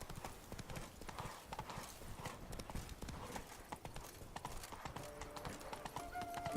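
Roach the horse's hooves clip-clopping in The Witcher 3, a steady quick trot of hoofbeats against a dense, busy background of game ambience, fairly faint and continuous.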